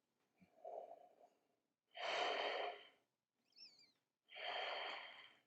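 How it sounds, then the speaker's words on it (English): Deep, full breaths during a yoga shoulder stand with a strap: four close breaths, with softer inhales alternating with long, airy exhales, separated by short silences. "Full, deep, spacious breathing."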